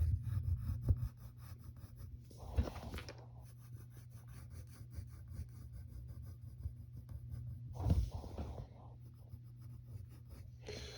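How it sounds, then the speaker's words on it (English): Pencil sketching half circles on paper: two brief scratchy bursts of graphite rubbing, close up, separated by quieter stretches of faint scraping. "So you draw these half circles."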